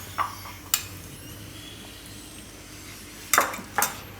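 A spoon stirs ghee into garlicky bajra khichu in a pan, with four sharp metallic clinks against the pan spaced apart, two early and two close together near the end, over a faint low hum.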